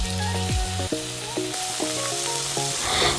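Chicken fries in a pan with ginger-garlic paste, a steady, close sizzle with a faint stirring scrape, while a louder tonal sound plays over it in short repeated steps.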